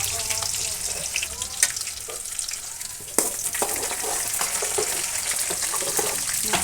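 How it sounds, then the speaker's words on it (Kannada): Mustard seeds, cumin, curry leaves and chopped onion frying in a pan, a steady close sizzle broken by stirring clatter and two sharp knocks of a utensil against the pan. "1 ಟೀ ಸ್ಪೂನಷ್ಟು ಸಾಸಿವೆ, 1 ಟೀ ಸ್ಪೂನಷ್ಟು ಜೀರಿಗೆ, ಕರಿಬೇವು, ಚೆನ್ನಾಗಿ ಹೆಚ್ಕೊಂಡಿರೋ ಈರುಳ್ಳಿ ಹಾಕ್ಕೊಂಡು ನೀಟಾಗಿ ಒಂದ್ಸರಿ ಫ್ರೈ ಮಾಡಬೇಕು."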